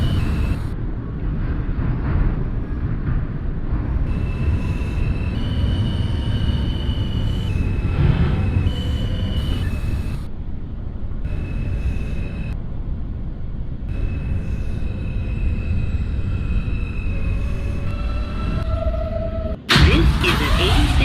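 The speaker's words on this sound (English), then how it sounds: "This is an 86th Street bound W local train." Simulated NYC Subway R160A Alstom train on a W local run toward Gravesend–86th Street, a steady low rumble of motors and wheels with rising and falling electric whine tones, ending in a sharp clunk.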